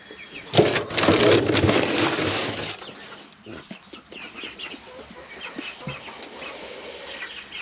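A backyard chicken flock with a rooster, clucking and fowl calls close by outdoors, loudest early on and then settling into quieter scattered clucks and rustling.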